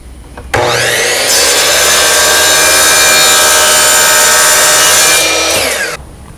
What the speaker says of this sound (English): we're going to take this over to the chop saw and cut those off.